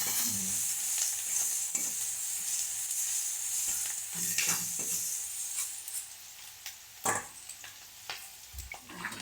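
Onion, garlic and ginger paste frying in a pan, a continuous bright sizzle with soft stirring scrapes and a few spoon taps against the metal.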